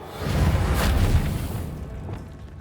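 A fiery spell blast in the Hogwarts Legacy video game erupts as a loud, rumbling boom that swells and slowly fades over a couple of seconds, with no voices over it.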